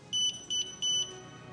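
A mobility scooter gives three loud electronic beeps, high-pitched and evenly spaced, over a quiet background.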